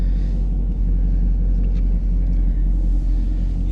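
A 2016 Chevrolet Camaro 1SS V8 with manual transmission idles with a deep, continuous exhaust rumble, steady and close, no voices over it.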